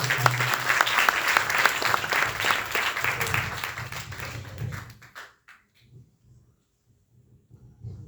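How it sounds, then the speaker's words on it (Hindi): Loud audience applause at an Arya Samaj Noida annual celebration ceremony: dense, vigorous clapping for about five seconds that then tapers off into a few scattered claps and near quiet. "उसके लिए मैं जोरदार ताली से चाहता हूँ"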